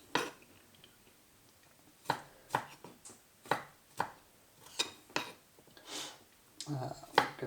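A knife hacks through a yellow pepper into big chunks on a cutting board, with a series of about ten crisp, close chops in an uneven rhythm and quiet pauses between strokes.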